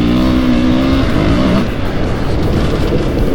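Husqvarna 501 FE off-road motorcycle ridden on a dirt track, its single-cylinder engine loud and close, revving up briefly and then holding a rough, steady drone.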